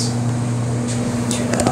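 A Maytag clothes dryer runs on air dry with clothes tumbling inside, making a loud, steady, close-up hum with a droning mechanical tone and a few soft knocks near the end.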